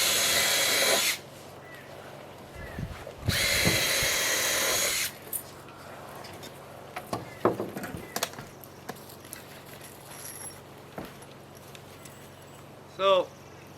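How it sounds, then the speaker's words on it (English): A power drill drives toe screws into tongue-and-groove boards for a 16x20 A-frame cabin, two loud whining bursts of about one and two seconds. Sparse knocks and clatter follow, with a voice speaking in the background. "you can go ahead and just slam in those toe screws first"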